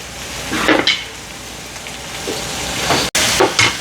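Crackling sizzle of spices tempering in a hot pan, with short bursts of spattering that rise and fade, fairly close and loud.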